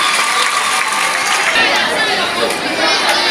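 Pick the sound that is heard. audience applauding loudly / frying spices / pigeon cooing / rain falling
audience applauding loudly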